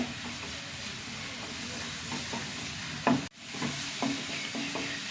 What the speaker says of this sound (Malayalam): സവാള ഒന്ന് വാടി വരട്ടെ.